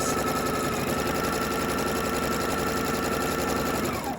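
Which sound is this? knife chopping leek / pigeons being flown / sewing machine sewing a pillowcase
sewing machine sewing a pillowcase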